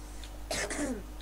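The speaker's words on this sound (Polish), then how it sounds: "Kaszel wraca, oh no." One brief, throaty cough close to the microphone over a low steady hum, with no talking.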